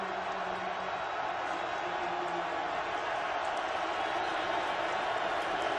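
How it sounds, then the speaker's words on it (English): A packed crowd at Husky Stadium roars for Washington's defense on fourth and goal, a broad sustained wall of cheering and noise, distant and even, with a faint voice underneath. "listen to this crowd get behind their Husky"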